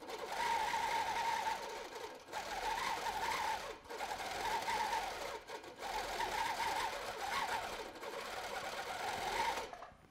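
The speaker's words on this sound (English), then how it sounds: "that's when the machine stitches when I'm not moving, so I can get those pointy points." A Baby Lock Regent sit-down long arm quilting machine stitches in a fast, even mechanical hum, running in bursts of roughly two seconds separated by brief pauses, close and clear with no talking.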